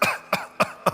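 A voice imitates coughing: four quick, evenly spaced coughs close to the listener, each a short rough burst.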